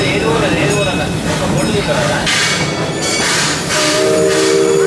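A mine train roller coaster at Six Flags St. Louis rumbles and clatters loudly along the tracks, with a steady roar, squealing wheels and a brief horn-like tone near the end.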